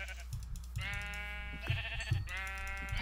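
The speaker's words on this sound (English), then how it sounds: "I see a sheep over here." Sheep bleating in the Minecraft video game, a couple of quiet wavering bleats repeated close together, with no talk over them.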